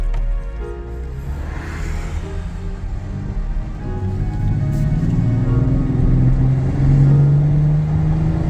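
A 2011 Chevy Camaro 2LT with misfires on cylinders 1, 3 and 5, its engine rumbling low and close, then building into a louder, steadier drone as the car pulls away.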